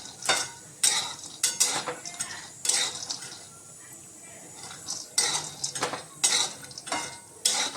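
Cashews roasting in a pan as dry-fruit protein powder is made: a spatula scrapes and clinks against the metal in repeated bursts, with a faint sizzle underneath and no talking.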